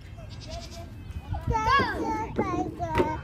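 Goats bleat a few times, wavering cries close by, while a child and an adult talk over them.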